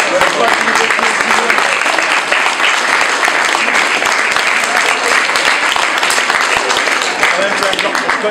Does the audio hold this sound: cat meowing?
no